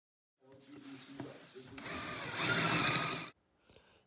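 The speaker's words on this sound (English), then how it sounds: "You've got to drill the end of that rivet off to get that cog off." A power drill whines up and grinds through the end of a metal rivet on a Mercedes R107 Klippan seat belt part for about three seconds, rising in intensity before cutting off abruptly.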